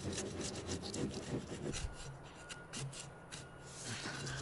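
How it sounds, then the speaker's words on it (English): A dull chisel pares out a dado in a timber frame, taking bulk material off the wood with steady scraping strokes that come one after another, close and fairly quiet, with no voices. "this is by no means sharp. So I may use it for the bulk removal"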